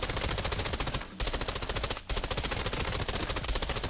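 Fully automatic gunfire in the Arena Breakout: Infinite shooter, firing tier 4 ammo from a budget weapon build against a tier 6 armored target: loud, very fast continuous bursts broken by two brief gaps.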